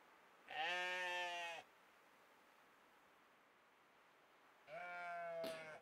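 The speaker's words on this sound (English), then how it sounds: "I guess it is a ram. This is a ram." A ram bleats in the video game Knytt Stories, two wavering, nasal bleats about four seconds apart, clear and close over a faint hiss.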